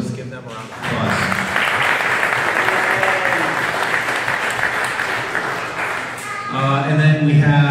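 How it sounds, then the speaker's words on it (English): A lively round of applause from an audience at a post-race gathering for an Ironman Wisconsin team, steady and close for several seconds, with a voice starting to speak again near the end. "So let's give them a round of applause."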